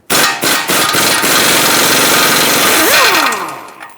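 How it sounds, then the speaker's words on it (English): A loud impact wrench whirs and rattles continuously for several seconds removing a 19mm mounting nut on a 2012-2018 Nissan Altima outer tie rod, with a brief pitch sweep near the end as it spins down. "Use a 19mm socket right on the mounting nut and remove it."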